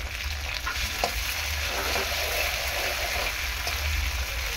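Snake gourd fries in leftover fish oil in a pan, giving a loud, dense, continuous sizzle with a few faint pops and scrapes, close by, with no voices.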